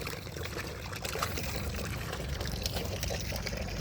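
Water pours steadily from a pump pipe, a continuous broad trickling and splashing rush that holds an even level throughout with no clear break.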